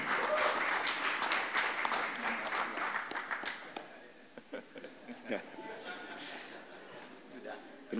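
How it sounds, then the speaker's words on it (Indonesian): Applause fills the hall after a political speech announcing a vice-presidential running mate. Dense, loud clapping runs at first, then thins into scattered claps and crowd murmur toward the end. "Kita berikan tepuk tangan yang meriah buat Pak Ganjar Pranowo dan Prof. Mahfud MD"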